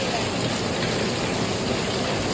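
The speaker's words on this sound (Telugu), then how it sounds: "జోరుగా ఆన వస్తున్నది ఈరోజు।" Dense, steady downpour of heavy rain in Santa Cruz, Mumbai, a continuous loud hiss with no breaks and no voices.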